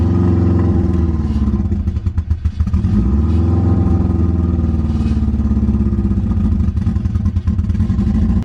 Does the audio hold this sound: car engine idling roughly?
yes